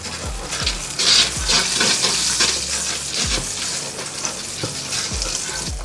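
Onions and poblano peppers sizzle steadily in a couple tablespoons of hot canola oil, a loud continuous frying hiss punctuated by low thumps and scrapes of stirring, with no talking.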